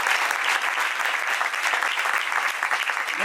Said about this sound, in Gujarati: ત્રણેય સંતોને તાળીઓના નાદથી બધા વધાવો